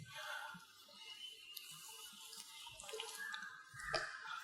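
Water pours faintly into a glass volumetric flask in a lab, making a soft, uneven trickle and splash that continues without a break over low background noise.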